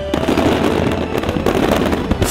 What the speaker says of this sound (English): Fireworks decorate the night sky over Lake Biwa.